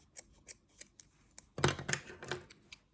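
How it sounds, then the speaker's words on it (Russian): Small scissors snipping excess material while remaking something old into something new, with a few separate crisp snips followed by a denser burst of rapid cutting, close and alone. "Можно маленькими ножницами, чтобы всю лишнюю толщину убрать"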